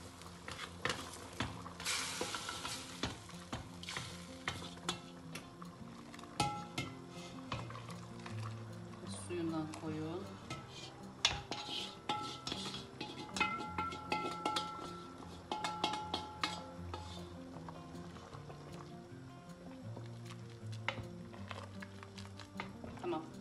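Sauce is stirred into a pot of boiled chickpeas and meat for a Van-style püşürük aşı, with repeated clinking and scraping of a spoon against metal throughout, soft bubbling underneath and a voice talking over it.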